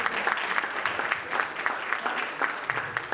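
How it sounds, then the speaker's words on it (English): Audience clapping fills a hall at an evening wealth-building event, a dense, steady burst of many hands with sharp individual claps poking through, sustained and fairly loud for the whole stretch. "Give yourselves a round of applause."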